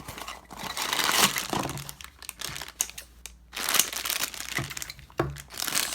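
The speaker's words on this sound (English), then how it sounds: "Rip it open." A toy blind box package for a Star Wars Funko mystery mini bobble head is torn open with bursts of crinkling and ripping plastic and cardboard, uneven and close by, with short pauses between the tears.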